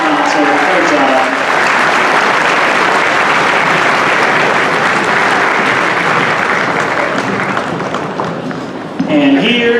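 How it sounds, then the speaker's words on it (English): Audience applause for 5th grade musicians after their first school band concert, a sustained dense wash of clapping that holds steady for several seconds, with a voice speaking over it at the start and end. "Can we get another round of applause for these 5th grade musicians on their first band concert?"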